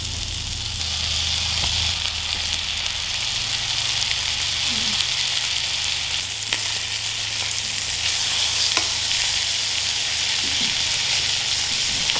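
A steak sizzling steadily in a pan, a loud, close, continuous frying hiss with faint crackles and occasional soft knocks, no voices.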